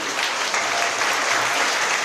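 Warm audience applause welcoming President Lai Ching-te of Taiwan at an overseas Chinese banquet in Hawaii, steady, dense and fairly loud throughout.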